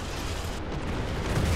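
A tank cannon shot destroying an enemy tank in War Thunder, a close, heavy booming blast with rumbling low end that swells toward the end of the short moment.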